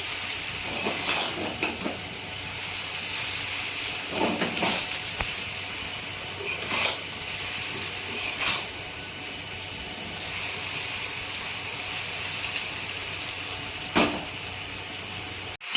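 Egg chow mein noodles frying in a hot pan give off a steady, loud hiss, with brief clatters and scrapes from tossing.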